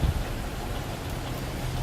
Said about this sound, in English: The sound of the rain is relaxing to hear